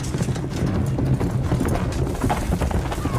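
Horse hooves clip-clop in a Game of Thrones episode, a busy, steady beat of several hooves on ground, close and continuous, blended with scene ambience.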